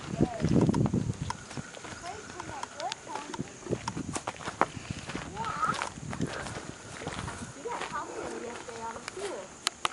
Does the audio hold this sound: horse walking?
yes